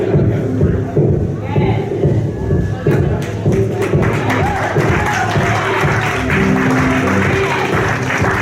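Audience applause at an annual fashion and award show for designer Craig Blunt, a steady wash of clapping with scattered thumps, heard beneath an announcer's amplified voice over a low, humming sound system.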